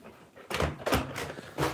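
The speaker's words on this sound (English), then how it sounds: "knocking the camera over." A camera set up on a gemstone carving bench gets knocked over, giving several dull thumps and knocks in quick succession, close and fairly loud.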